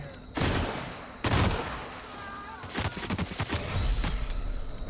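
Rapid video-game gunfire from The Outer Worlds comes in dense, loud bursts, with a brief pause before a longer stretch of crackling shots and a few quieter gaps.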